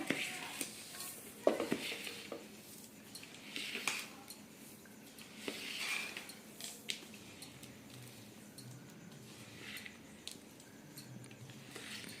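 Sesame and jaggery syrup is stirred in a pan. A spoon scrapes and stirs in irregular strokes, with soft sticky squelches and occasional clinks. All of it stays fairly quiet.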